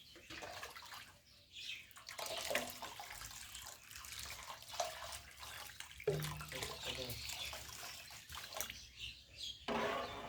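Water is poured onto fresh chhana, milk curds. A continuous rushing splash goes on throughout at low level, with faint bird chirps in the background.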